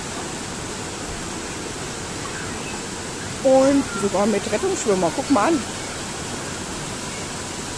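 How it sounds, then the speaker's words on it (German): A steady, broad rushing roar comes from a waterfall pouring into a lagoon at an indoor tropical resort, with people talking over it partway through. "Hier ist der Wasserfall."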